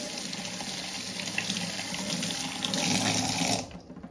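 Tap water runs steadily over jujube berries being washed at a sink, a continuous close splashing stream that swells slightly louder before cutting off sharply near the end.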